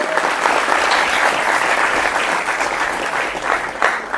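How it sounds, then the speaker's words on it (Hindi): A studio audience gives loud, sustained applause, a dense even wash of many hands clapping with no break from start to finish. "जोरदार तालियों के साथ स्वागत करते हैं।"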